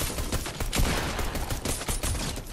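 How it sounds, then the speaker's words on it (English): Video game gunfire from two directions: a dense, continuous fusillade of rapid shots, loud and close, with no talk over it. "I'm getting shot from two different directions."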